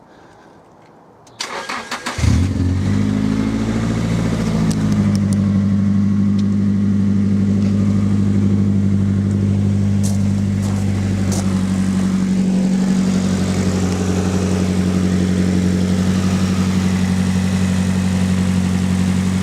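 Nissan 180SX engine after an oil, oil filter, fuel filter and spark plug change: a brief crank catches into a loud start near two seconds, then settles into a steady, even idle close by.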